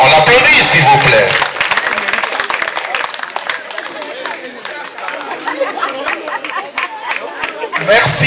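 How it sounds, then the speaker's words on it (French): Audience applause at a recognition ceremony honoring former trainers, starting loud with clapping and crowd chatter, then thinning into scattered claps and murmuring voices before swelling again at the end. "On l'applaudit s'il vous plaît."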